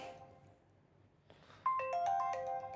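Alarm 3 tone on a Nokia Lumia 635 phone: after a quiet tail of a previous sound, a bright sequence of chiming electronic notes starts abruptly and continues steadily, close and clear.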